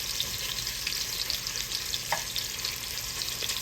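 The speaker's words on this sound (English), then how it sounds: "Get sausage going in here first. Get a little. Get that oil coming out of it. Then we're gonna throw our shrimp in there." Shrimp and sausage frying in oil in a pan make a steady, close sizzle that runs without a break, with faint stirring underneath.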